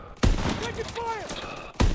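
Gunfire in the video game Call of Duty: WW2 fires in two loud, close bursts at the start and end, with a voiced battle shout in between.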